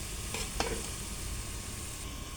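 Bananas frying in a pan give a steady, close sizzle throughout, with a couple of brief scraping clicks from stirring early on.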